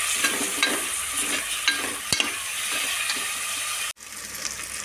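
Green chillies and chopped tomatoes cooking in oil in a pan for goat-meat curry, a steady close sizzle broken by several sharp spoon scrapes and clanks against the pan, with a short cut near the end.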